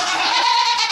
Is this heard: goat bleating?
yes